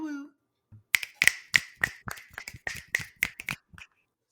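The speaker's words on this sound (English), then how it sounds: "Those are finger snaps." A quick run of about a dozen crisp finger snaps, close and dry, in a loose uneven rhythm, following a brief spoken word at the start.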